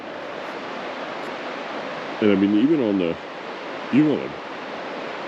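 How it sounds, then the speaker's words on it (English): A river rushes steadily about fifty feet below a high bank in the White Mountains, a constant broad wash of flowing water heard from above, with someone talking over it. "we're probably 50 or so feet above the river"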